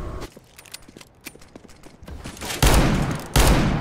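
Gunfire in the video game Counter-Strike: Global Offensive: a string of rapid shots and clicky mechanical taps, building to two loud, sustained blasts near the end.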